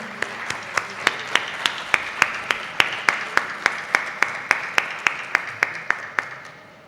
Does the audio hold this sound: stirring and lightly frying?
no